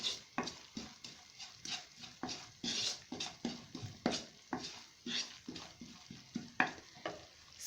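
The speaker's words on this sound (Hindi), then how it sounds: "अब मैं इसमें तमाम स्पाइसेस डाल दूंगी। अच्छी तरह से इनको मिक्स करेंगे।" Spices are stirred into onions frying over medium heat for chana masala, with a spoon scraping the pan in a steady, repeated rhythm over a close, soft sizzle.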